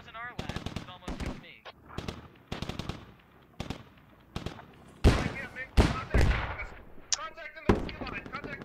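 Machine gun fire in the game Squad: short, loud bursts of rapid shots repeating irregularly, with heavier impacts later, under occasional talk.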